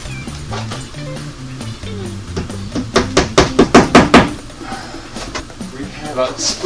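A hammer drives a nail into a wall to hang a picture, with about eight sharp, evenly spaced strikes in a quick burst, close and loud, preceded and followed by quieter handling noises.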